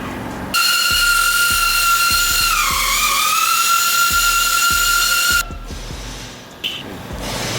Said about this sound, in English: Grind it down real nice and smooth.